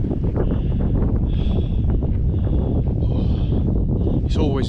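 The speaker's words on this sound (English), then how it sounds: "it's always a bit breezy on here" Strong wind buffets the microphone on a high, exposed hilltop in the Peak District, a constant loud rumbling roar with faint higher tones drifting through.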